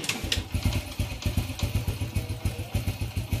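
An older carbureted Honda Revo motorcycle engine idles close by with a rough, rapid chugging pulse and a lumpy, uneven rhythm, plus some light mechanical clatter and no talking.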